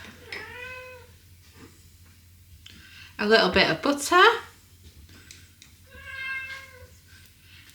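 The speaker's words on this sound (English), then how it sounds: "Excuse my noisy cat, she never shuts up." A domestic cat meows repeatedly in a kitchen where chicken and mushroom pies are being made, with several drawn-out cries near and clear, spaced through the clip, alongside a person talking and some rustling food prep.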